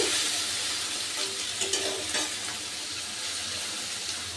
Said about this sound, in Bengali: এবার দিয়ে দেবো আমি চেরা কাঁচা লঙ্কা। আমি আবার একটু নেড়ে দিচ্ছি।